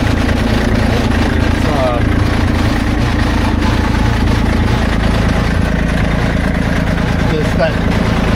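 A Kubota 2501 tractor engine runs at a steady idle up close, a constant low chugging throughout, with people talking over it.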